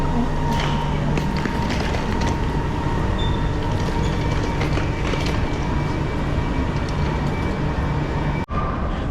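A Heathrow Express train sits at a station with a steady, loud rumble and hum throughout, faint rattling on top, and a sudden brief dip near the end.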